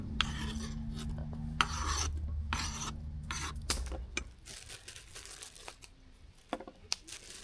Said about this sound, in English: It's not the sharpest knife, so I can't really delicately cut these tomatoes.